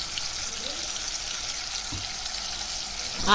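Tomato and ginger paste frying in a pan for chicken egg fried rice, a steady close sizzle with a brief clatter near the end, alone without talk.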